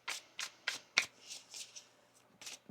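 Tarot cards are riffled in a quick run of about seven crisp, close shuffling bursts at an uneven rhythm, quiet and heard alone without talking.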